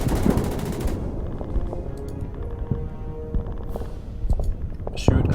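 Tanks trading fire in the Order of Battle strategy video game, with sharp gunshot-like bangs and scattered impacts over a busy battle soundscape; moderately loud bursts spaced irregularly, with a voice talking over parts.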